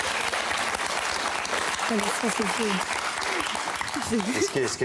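Studio audience at a Motus Christmas special game show applauding a contestant, a dense steady wash of clapping that fills the whole stretch, with a voice talking over it partway through.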